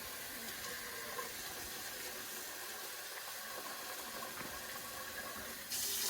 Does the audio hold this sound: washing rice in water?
yes